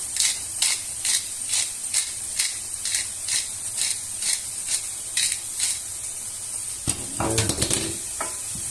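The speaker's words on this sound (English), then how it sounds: "The meat is slowly cooking." Meat sizzling slowly in a pan for a cream-free carbonara with lard, a steady hiss broken by regular stirring scrapes every half second or so, with a louder clatter near the end.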